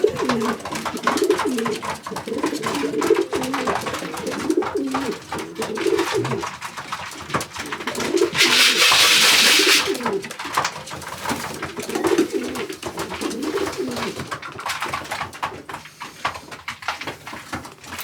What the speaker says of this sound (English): So this is it, these are my stock pigeons.